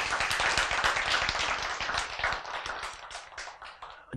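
A lecture audience claps together in a dense, steady patter of many hands, fairly close, thinning slightly toward the end with no talk over it.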